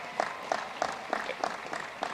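Audience applause at a commencement ceremony, heard as a modest, rhythmic burst of clapping with regular hand claps about every third of a second, moderately distant and fairly quiet.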